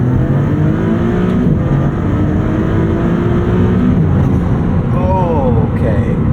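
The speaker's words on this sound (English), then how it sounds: "The way in which this car accelerates is otherworldly." A 2022 Maserati MC20 supercar accelerates on a backroad, its engine a steady, loud drone heard from inside the cabin throughout, with a voice talking over it near the end.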